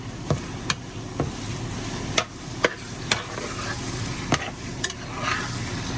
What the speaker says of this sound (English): I'm going to finish letting this beef brown off.